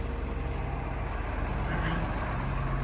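A snow plow machine pushes through snow in a winter storm, its heavy engine droning steadily and close with a constant low rumble and no voices.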